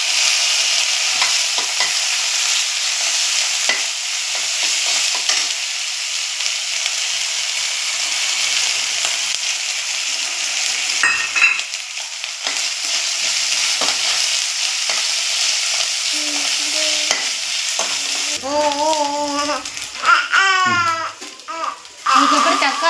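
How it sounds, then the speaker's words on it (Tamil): Onion sizzles loudly with ginger garlic paste in a pan for a vegetable kurma, steady frying noise with scattered stirring scrapes and a voice chattering near the end. "ஆனியன் நல்லா வதங்கணுமா. இஞ்சி பூண்டு பேஸ்ட்டு,"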